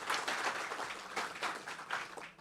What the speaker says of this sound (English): please, a round of applause for all of our social media contestants that were playing along